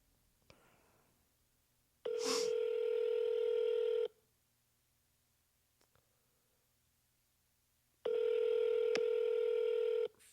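A telephone ringback tone on an outgoing cold call to an expired real-estate listing: two steady, loud electronic buzzes about two seconds each, separated by a quiet gap, with no talking.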